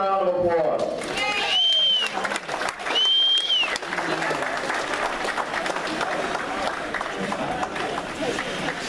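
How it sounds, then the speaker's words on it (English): Applause and cheering from a crowd honoring a veteran at a Berks County Patriots Christmas party, a loud sustained roar of clapping that fills the room, with voices and whistles rising over it early on. "How about let's give him a round of applause."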